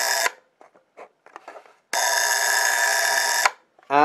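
A loud mechanical alarm bell on a 1985 Roman numeral alarm clock rings in a brief burst, then a sustained ring of about a second and a half, with small clicks and handling noises between.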